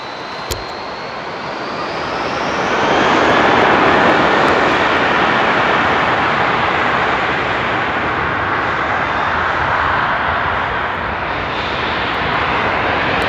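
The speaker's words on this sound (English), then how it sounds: "Somebody ordered a fighter jet?" A jet aircraft at Frankfurt Airport roars past, its engine rumble rising to a loud sustained peak and then fading slowly, with no talk over it.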